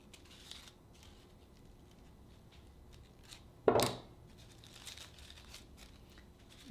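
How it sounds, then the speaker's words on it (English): Scissors pushing back crepe paper while shaping a paper carnation, heard as one sudden crisp rustle and scrape near the middle of an otherwise quiet stretch, with a faint crinkle at the very end. "I'm going to get my scissors in here to push this back."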